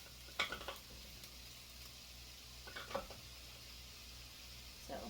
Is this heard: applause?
no